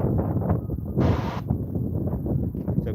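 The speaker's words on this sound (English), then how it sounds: "Kind of windy, sorry guys." Wind gusts outdoors at a skydiving dropzone during a ham radio event, a steady low rumble with a brief harsher burst of buffeting, with no voices.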